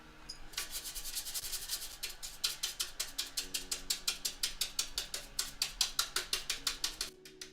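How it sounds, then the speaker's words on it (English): A brush swept in quick, regular strokes across the side panel of a PC case, a close scratchy rasp repeating steadily and growing slightly louder, with a low hum running underneath. "I'm gonna brush the panel side of this real quick"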